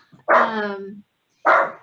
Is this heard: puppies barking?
yes